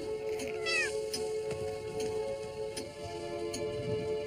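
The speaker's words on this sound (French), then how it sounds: "Je vous ramène votre chat." A domestic cat meows once, with a rising-falling cry near the start, against a steady indoor hum and soft ticking.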